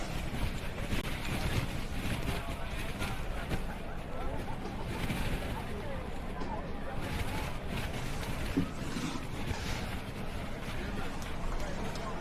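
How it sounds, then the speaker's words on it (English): Gusty wind buffets an outdoor slopestyle competition course at a ski resort, a steady loud roar with rumbling microphone buffeting throughout, broken only by faint distant voices. "there's gusts of winds coming up"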